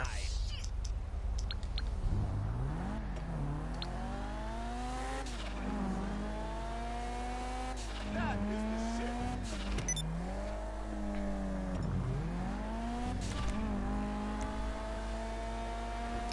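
Racing cars in a video game race roar and rev through the gears, engine pitch repeatedly climbing and dropping in steady sweeps, loud and continuous, with faint chatter in the background.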